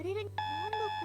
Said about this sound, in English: The beep started up again.